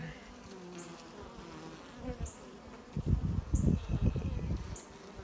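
Honey bees hum in a steady, close buzz, swelling louder in the second half with rustling movement near the hive.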